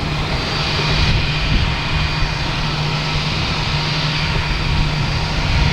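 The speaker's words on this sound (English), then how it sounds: "But first we have United Airlines coming in from Houston. 737 MAX 9, flight 1318." A United Airlines Boeing 737 MAX 9 jet, flight from Houston, arriving at Boston Logan Airport: a steady, continuous engine roar with a low drone, fairly loud and even throughout, no voices.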